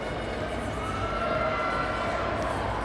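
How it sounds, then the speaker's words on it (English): The Regis Jesuit crowd at a high school 5A ice hockey final against Valor Christian cheers with a broad, continuous roar that swells slightly midway and then holds steady, with no clear talk on top. "The Regis crowd has come alive."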